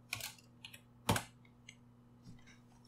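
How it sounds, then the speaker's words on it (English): Typing on a computer keyboard, a few sparse, close key clicks with one sharper, louder keystroke in the middle, set against a low steady hum. "You can type whatever you want in there"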